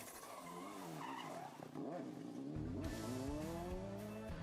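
On a club rally stage, a rally car brakes hard into a tight hairpin and its tyres skid and squeal, then the engine revs rise and climb loudly as it powers out, close and continuous with no voices.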